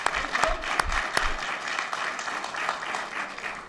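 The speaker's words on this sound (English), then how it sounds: "Let's give her a big round of applause." A school board meeting audience claps for a Hall of Fame high school field hockey coach, moderately loud applause with a few sharp individual claps standing out in the first second.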